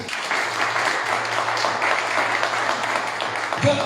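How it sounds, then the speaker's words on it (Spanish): Evangelical congregation at a church service giving a sustained burst of dense applause, steady and fairly loud for several seconds, with a low hum underneath. "Den un aplauso al Señor."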